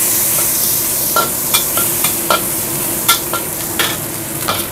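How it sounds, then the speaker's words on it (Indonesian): Bean sprouts stir-fried with anchovies and garlic in a hot pan: a steady sizzle with repeated scraping stirs of the spatula at an uneven rhythm, close and clear. "Selanjutnya saya mau tumis toge teman-teman ya dengan ikan teri, bawang putih."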